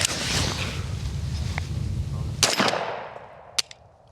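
Gunshots from a CMMG Banshee 9mm pistol fired outdoors, a couple of sharp cracks with a trailing echo after steady background rumble, followed by a brief fainter report near the end.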